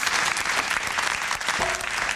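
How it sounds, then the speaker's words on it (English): Dense, continuous applause, loud and close throughout, with a steady even roar of clapping. "We have director Chris on the fake applause today"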